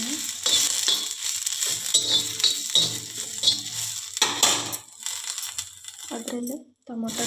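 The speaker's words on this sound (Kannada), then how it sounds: "ಈಗ ಚಟ್ನಿ ಮಾಡೋಕ್ಕೆ ನಾವು ಹಸಿಮೆಣಸು ಹಾಕಿ ಸ್ವಲ್ಪ ಹುರಿಯೋಣ." Green chillies frying in a pan for chutney give off a soft, steady sizzle with occasional stirring clinks, heard beneath someone talking throughout.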